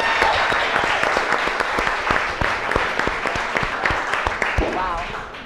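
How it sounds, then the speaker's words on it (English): Applause from the audience at a chef cooking competition as the contestants start cooking: a loud, sustained round of clapping with sharp individual claps standing out, lasting the whole stretch. "All right, give him a good round of applause."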